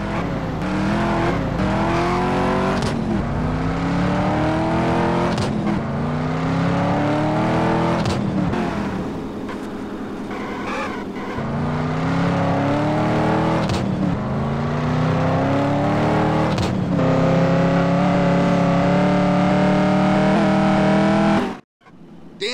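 A car engine in GTA San Andreas revs and shifts through repeated rising gear sweeps, loud and close, with a brief lull and tire noise before it cuts out at the end.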